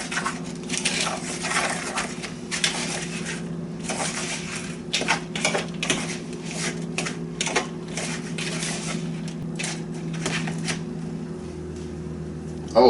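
Napa cabbage being mixed by hand with white kimchi seasoning, a continuous wet crunching and rustling with irregular squelches, close and steady throughout.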